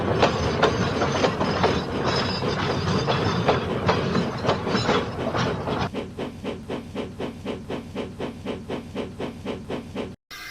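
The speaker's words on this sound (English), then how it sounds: "The Limited rushed by with a growl and a roar." A train in the video game Sodor Online Remake rushes steadily past with loud, rhythmic clickety-clack, the rumble thinning to a lighter, regular beat before cutting off abruptly.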